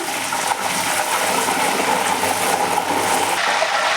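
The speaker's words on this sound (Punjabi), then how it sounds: "ਆਪਾਂ ਨੇ ਨਾ 2 ਚਮਚ ਇਹ ਨਮਕ ਵਾਲੇ ਪਾਣੀ ਦੇ ਪਾਉਣੇ ਆ ਥੋੜਾ ਪਿੱਛੇ ਹਟ ਕੇ ਪਾਇਓ ਤਾਂ ਜੋ ਛਿੱਟੇ ਆਪਣੇ ਉੱਤੇ ਨਾ ਪੈ ਜਾਣ" Salt water spooned into hot oil with frying potato chips, giving a loud, steady hiss and crackling splatter that fills the whole moment with no talk.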